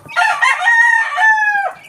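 Young chicks, nine-day-old sweater breed chicks, excitedly letting out a rising, sustained high-pitched call close by, one continuous excited cry with no talking.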